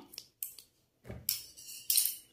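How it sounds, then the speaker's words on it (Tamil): Pink plastic running wire for basket weaving being cut, giving a few short, crisp snips and clicks separated by brief silences, close and fairly quiet. "இப்போ ரோஸ் கலர் ரன்னிங் ஒயரை கட் பண்ணிடலாம்"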